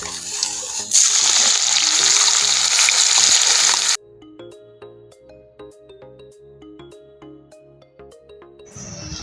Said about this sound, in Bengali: এখন আমি দিয়ে দেবো কেটে রাখা পেঁয়াজগুলোকে